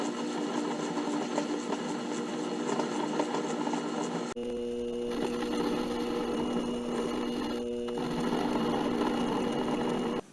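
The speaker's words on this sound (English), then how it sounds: "now I'm facing the head bolt until it's completely smooth" A 1950s Atlas lathe facing a head bolt, a steady close mechanical whir with a constant motor hum, the tone shifting partway through as the cut changes, continuous and fairly quiet.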